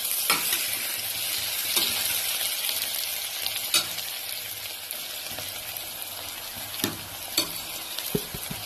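Spice powders being stirred into bitter gourd cooking for hagalakayi gojju: a steady sizzle runs throughout, broken by several sharp scrapes and clicks of the spoon against the pan, with no talking.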